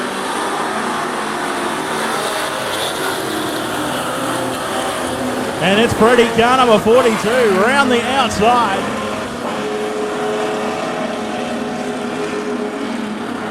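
Super Stocker race cars, including a green and white V8 Commodore, roar around a speedway, engine noise swelling loudly as cars pass close mid-clip, with a race commentator talking throughout.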